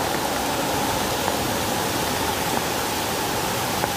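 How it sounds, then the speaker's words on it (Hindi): A waterfall at the Jharna Mandir temple in Mohabbatabad, Faridabad, with rain falling, gives a steady, dense roar of rushing water that holds constant and fairly loud throughout, with no talking. "अभी झरना बहुत खूबसूरत हो गया"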